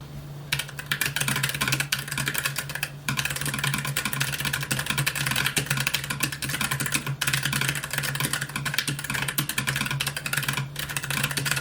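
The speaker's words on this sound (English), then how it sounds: "this is still not a crazy loud keyboard" Steady, fast typing on a Keychron K1 Pro wireless low-profile mechanical keyboard, with soft, dense clacks continuing throughout, over a constant low hum.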